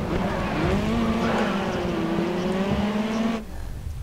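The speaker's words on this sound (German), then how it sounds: "Und die Motoren sind noch etwas laut," Race car engines in the video game GRID Autosport drone loudly with rising and falling pitch, tires squealing briefly, before the roar drops away near the end.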